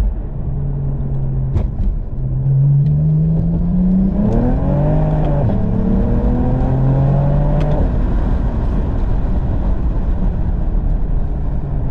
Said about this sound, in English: the key here is going to be managing wheel slip as we roll on in second gear